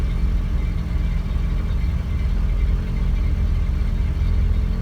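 A carbureted 1979 Ford F-350 engine idles after a cold start with no choke, a loud, steady low rumble close by with slight unevenness and no talk.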